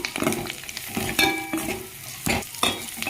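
Onions and chillies fry with curry leaves, ginger and turmeric in a pan, a steady close sizzle broken by several scraping stirs of a utensil against the metal, with no talk.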